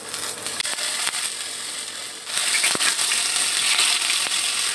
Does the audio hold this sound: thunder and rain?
no